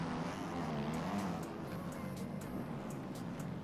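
A virtual dirt bike or scooter engine in a motocross racing game buzzes steadily and fairly quietly, with a few faint clicks and ticks on top.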